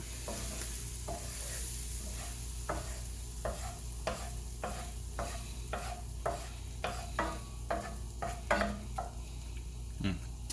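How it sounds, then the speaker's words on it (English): A spoon stirs cracked pepper and garlic into sour cream, giving a steady run of close scraping strokes against the bowl over a constant background hiss. "I'm just going to toss them into this sour cream, mix it up"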